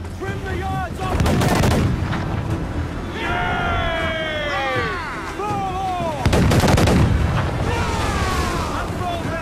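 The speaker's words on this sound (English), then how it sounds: "Oh no, they're gonna get broadside." Ship cannon broadside fire in Assassin's Creed IV, a naval battle in a video game: heavy booming volleys land in loud clusters against a rumbling sea backdrop, with shouting crew voices and whistling effects between the blasts.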